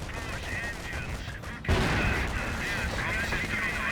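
In a World War II video game battle, a Henschel aircraft strafes while gunfire erupts: quieter background rumble, then a sudden loud burst of shooting that carries on steadily.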